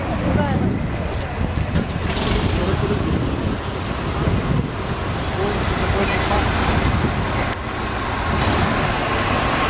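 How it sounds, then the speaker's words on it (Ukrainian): A car drives off from a street scene where a Lenin monument is being demolished in Kropyvnytskyi, its engine and road noise a dense, loud rumble mixed with wind and voices. "О, друга машина поїхала"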